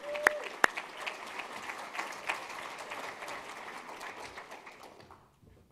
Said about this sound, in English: How about a big round of applause for our chairman?